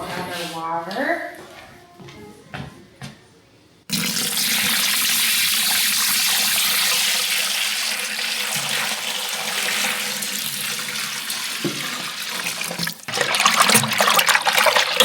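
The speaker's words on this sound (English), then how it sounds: "And then we'll add our water." Water poured into a bucket of bread starter while baking bread for a market: a steady, close pouring and splashing stream that begins abruptly and runs loud for about eleven seconds, with brief talk and handling noises just before it.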